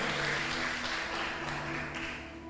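A church congregation applauds in a continuous wash of clapping that is loud at first and gradually thins, with faint steady tones lingering beneath.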